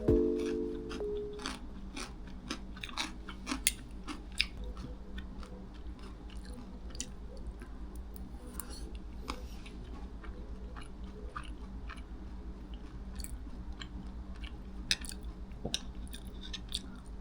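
Close, crisp chewing of crunchy food, steady bites and crunches repeating throughout, with no talking.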